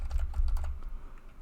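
Quick run of key clicks on a computer keyboard as a terminal command is typed, a burst of close, crisp taps over low hum, alone with no talk.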